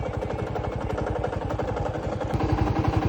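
A Royal Enfield Bullet motorcycle with about 20,872 km on it runs close by with a bearing fault noise. It thumps in a steady, rapid rhythm, with a clattering mechanical edge over the beat.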